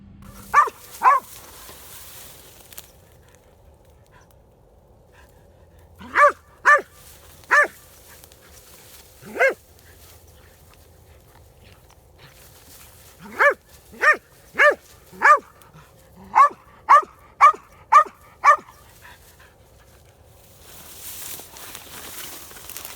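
A blood-tracking dog barks outdoors on a deer trail, sharp single barks coming in scattered groups and quick runs of several, moderately close against a quiet background.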